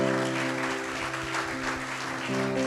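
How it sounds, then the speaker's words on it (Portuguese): A church congregation applauds in a sustained, even wash of clapping, with a steady organ-like chord held underneath. "Pode aplaudir ao Senhor."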